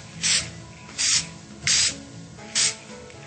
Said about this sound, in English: you can do a 10-second marbling by using the Krylon Paper Finishes webbing spray